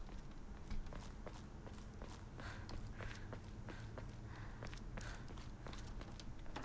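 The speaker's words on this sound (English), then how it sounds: "I hear them tippy-tappy footsteps. I think it was on the right." Light, tapping footsteps in the horror video game Silent Hill f, a quick even patter of soft steps repeating steadily over a low ambient drone, moderately faint and with no talking.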